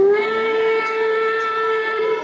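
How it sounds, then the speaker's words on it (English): A model C&O Allegheny locomotive plays a recorded Allegheny Hoover steam whistle: one loud, steady, multi-tone chord held for over two seconds, sounding alone. "that's an Allegheney Hoover whistle"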